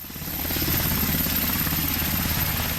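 A police helicopter hovers over a film shoot in Istanbul, its rotor chopping steadily and loudly and rising slightly at the start before holding constant.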